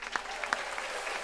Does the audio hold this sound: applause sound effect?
yes